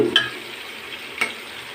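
Onion frying in a pan with cinnamon, cloves, cardamom and bay leaf, a steady close sizzle with a couple of soft stirring scrapes.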